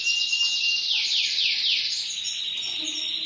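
An Algerian goldfinch sings close and clear, with a high, rapid, twittering phrase of descending trills and sustained tinkling notes, steady and loud with no speech.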